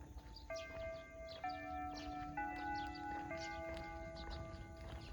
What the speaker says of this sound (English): This is the school bell that used to ring in my old Japanese school.